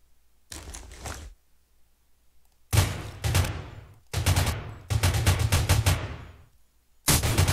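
Rapid automatic gunfire in the Rules of Survival video game comes in several sharp bursts separated by silent gaps, loud and close, without speech over it.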